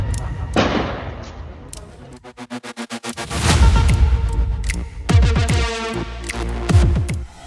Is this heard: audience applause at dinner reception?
no